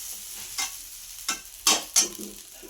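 Chow mein being reheated in a pan gives several separate scraping stir strokes with short bursts of sizzle, irregularly spaced over a low, steady background, with no voices.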